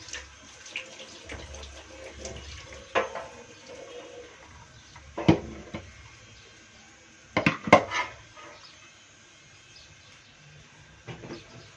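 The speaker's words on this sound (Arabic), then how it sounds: "هبدا بقى احط عليه ميه سخنه" Hot water pours and splashes quietly into a pot in short, uneven bursts, with faint clinks and a low background hum in between.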